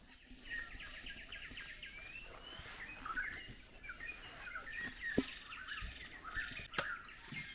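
A blue-winged pitta calls amid other birdsong at a forest hide in Kaeng Krachan, Thailand, its faint whistled notes repeating among chirps and twitters in a quiet, distant scene.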